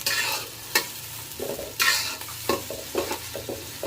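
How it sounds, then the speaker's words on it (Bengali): Chopped onions frying in hot soybean oil in a heavy-bottomed pot for beef tehari, bursts of sizzling with spatula scrapes and stirring clatter at irregular intervals, close, no talk. "দেড় কাপের মতো সয়াবিন তেল গরম করে আমি দুই কাপের মতো পেঁয়াজ কুচি অ্যাড করে দিয়েছি"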